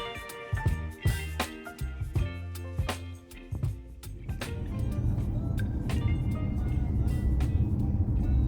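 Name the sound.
car ride in an Uber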